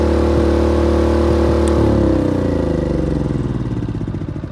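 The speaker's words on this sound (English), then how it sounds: "Hear it misfiring." A Generac iQ3500 portable inverter generator runs loud and close with an uneven, stumbling misfire, then its engine note drops and sputters as it winds down.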